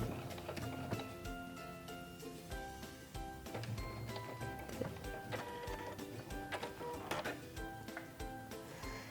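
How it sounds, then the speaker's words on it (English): A Singer Legacy C440 sewing machine finishes a buttonhole, tacking a stitch and trimming it, with a fast, rhythmic mechanical whirr and clicks heard up close. "When the buttonhole is finished sewing, it will automatically stop, and then it will tack down a stitch, and then it will even trim the buttonhole for me."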